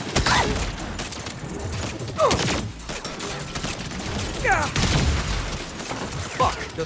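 Sniper gunfire in a Saints Row shootout inside a legal office building, with sharp shots cracking out several times over a dense, noisy backdrop of battle sounds and occasional voices.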